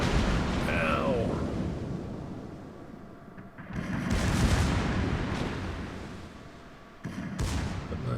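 German tier 7 premium battleship Sharnhorst's secondary guns firing in World of Warships, a dense rolling series of booming reports under continuous battle noise, swelling in bursts with a sharp fresh volley near the end.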